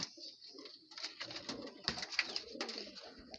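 Breeder pigeon in a loft, cooing softly and repeatedly in low, throaty calls at close range, with faint chirps and rustling in the background.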